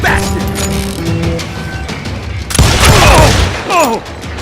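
Gunfire rings out in the Western shooter Call of Juarez: Gunslinger, a burst of sharp loud shots after about 2.5 seconds, preceded by mechanical clatter and game ambience.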